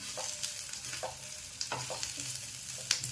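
Grated coconut roasts with onions in a pan, giving a soft, continuous sizzle with light, irregular spatula scrapes and taps; quiet and close, with no voices.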